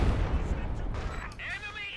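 An artillery barrage pounds the ground in Company of Heroes 2: heavy booming impacts and rumble, loud up front and fading into lighter crackles and a sweeping whine, with a commentator talking over it.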